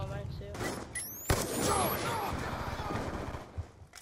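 Gunfire in the Black Ops 2 video game during a private match, with a sharp loud shot near the middle among other game shots and effects, voices talking over it.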